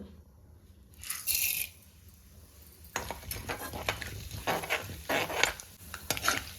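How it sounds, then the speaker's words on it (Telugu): Tempering spices dropped into hot oil for a spicy bitter gourd fry, a brief clatter of a utensil followed by a crackling, popping sizzle that continues close and fairly loud. "ఇప్పుడు ఇలా ఆయిల్ హీట్ ఎక్కాక తాలింపు దినుసులు వేసుకోవాలండి మనం ఫస్ట్"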